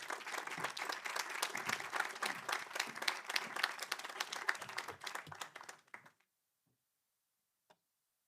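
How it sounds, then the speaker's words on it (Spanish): A hall audience applauds a speaker presenting a talk on audiovisual literacy, giving a dense, lively round of clapping that cuts off abruptly, followed by near silence with a single faint knock. "Un aplauso."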